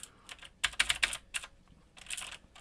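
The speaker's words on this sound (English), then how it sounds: "Clicks loud in this plastic cheapio keyboard here" Keystrokes on a cheap plastic plate-mounted mechanical keyboard with clicky MX Blue switches, a few quick bursts of sharp, loud clicks separated by short pauses, close and alone.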